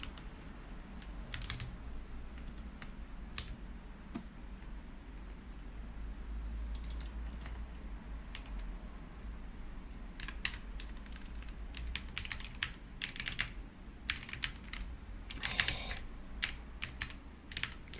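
Steady typing on a computer keyboard, with rapid clustered key clicks coming in irregular bursts that grow busier in the second half, close and fairly quiet with no talking.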